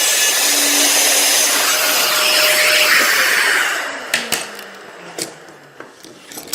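A router cuts through wood along a template, a loud steady whine that winds down after about four seconds, followed by a few sharp clicks and knocks.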